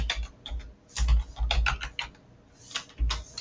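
Keystrokes on a computer keyboard while entering data into an Excel spreadsheet, coming in quick clustered bursts with short pauses between them, close and fairly quiet with no talking.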